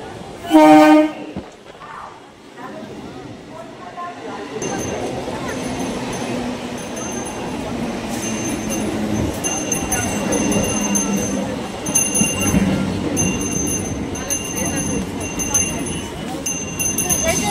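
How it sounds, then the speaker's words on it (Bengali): A memu passenger train on the Naihati–Berhampore line pulls into a station platform, its steady rumble swelling and lasting to the end, with a short horn blast first and crowd chatter underneath. "ট্রেন ঢুকে গেল প্ল্যাটফর্মে।"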